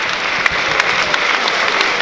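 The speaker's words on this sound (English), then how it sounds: "With a few of the fans around me getting on their feet to applaud the midfielder" Football fans at a Gateshead versus Woking National League match applaud a substituted midfielder, a loud continuous ripple of clapping with a few sharper individual claps standing out.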